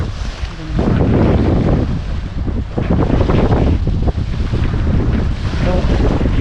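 Strong wind buffets the microphone over the rolling wash of sea waves at Changi Beach Park in Singapore, a loud, continuous roar with gusty surges and no speech.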